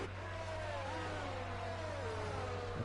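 A McLaren Formula One car in a racing video game screams down a straight at full speed, its high engine note rising steadily and holding loud and constant throughout with no talk over it.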